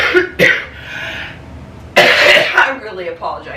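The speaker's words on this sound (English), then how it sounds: "I really apologize for the coughing." A person coughs and clears their throat in a few harsh, close bursts, with a longer rough cough fit in the second half and brief voiced sounds between.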